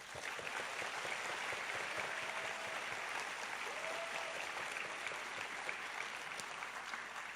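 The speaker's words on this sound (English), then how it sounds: "Let's give him a big round of applause" Evening-event audience in Penang clapping for Lim Guan Eng, a fairly quiet but continuous spread of applause from a distance, steady throughout with faint voices underneath.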